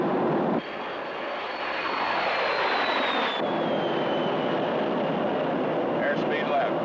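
An airliner's jet engines spool up to takeoff power on a runway: a loud, steady roar with a whining tone that slowly drops in pitch, continuous and close, with a voice heard briefly beneath it.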